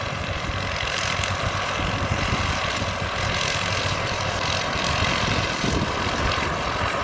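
A continuous droning engine rumble with broadband noise, steady and fairly loud throughout, like a tractor running while mowing.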